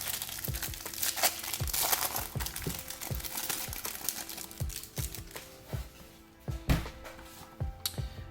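Plastic wrapping on Pokémon card booster packs crinkles and tears up close, in a run of sharp, irregular rustles and crackles with brief pauses.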